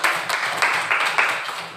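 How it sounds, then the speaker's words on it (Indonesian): A classroom of students claps for two classmates, a short burst of light, uneven applause with several rhythmic surges, fairly close and with no talk over it. "Tepuk tangan untuk kedua teman kita"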